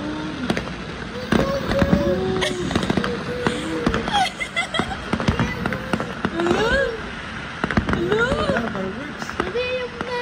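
Fireworks bursting near a hotel rooftop, a string of sharp pops and crackles at middle distance under excited talking and children's voices.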